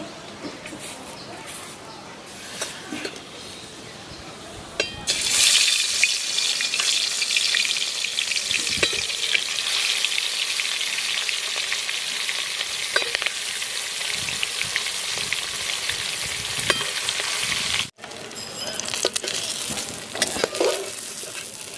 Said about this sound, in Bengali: গরম হয়ে গেছে এবার আমি মাছের পিসগুলো ছাড়বো